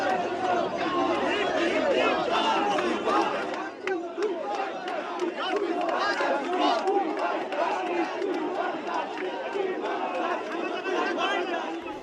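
Huge crowd of rival Kolkata derby football fans protesting together at Salt Lake Stadium in Kolkata over a rape and murder victim: a dense, unbroken roar of many voices with shouts and chanting, loud and steady throughout.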